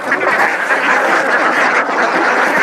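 A flock of Khaki Campbell ducks quacks together in a dense, continuous chorus, loud and close with no pauses.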